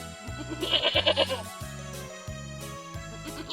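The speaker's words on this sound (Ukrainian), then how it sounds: "Коза." A goat bleats in a short, quavering burst near the start, over a repeating low musical pulse, then only the backing rhythm continues.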